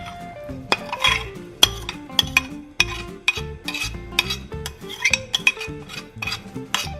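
Cooked shrimp and pasta get tossed in a metal pan with a utensil, producing a rhythmic series of sharp clinks and scrapes against the pan, with a faint sizzle underneath.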